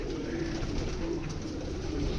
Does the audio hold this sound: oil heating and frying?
no